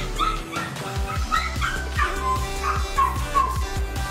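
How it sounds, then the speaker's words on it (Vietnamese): A small dog barks and yips repeatedly at close range, mixing short sharp barks with whimpering whines in a quick, uneven series. "Quay video cho nó mà nó cứ sủa lắm miệng"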